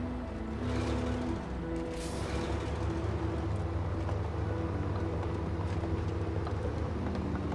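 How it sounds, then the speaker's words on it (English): Throaty engine roar of a Tatra truck in the off-road driving game SnowRunner, a steady low rumble sustained throughout at moderate level, with no talk. "I always like this engine sound of these ANKs. We go throaty roar on it."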